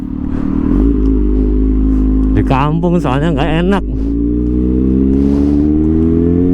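Kawasaki ZX6R sport motorcycle engine revved hard in a village, a steady idle rumble rising into several sharp, loud blips in the middle before settling back, with someone talking over it.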